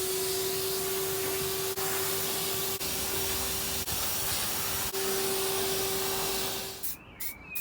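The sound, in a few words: Henry vacuum cleaner running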